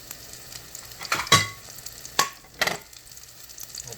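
Meat sizzles and fries in a pan for hamburgers, a steady crackling hiss broken by a few louder scrapes and clatters of stirring, close by with no one speaking.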